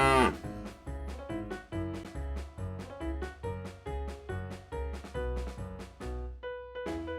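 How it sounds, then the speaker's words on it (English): A cow lows over a steady, rhythmic musical beat that runs throughout at moderate loudness. "Cow."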